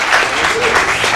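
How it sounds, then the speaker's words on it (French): A brief, loud burst of applause from a studio audience on a French-language morning talk show, honoring a student delegate, with dense clapping filling the whole moment. "Merci monsieur, applaudissements pour lui."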